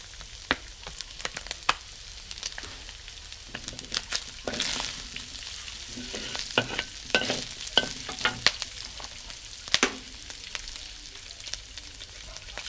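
Mushrooms fry until crispy in a pan, a steady close sizzle with frequent scraping and stirring strokes spread through the whole stretch.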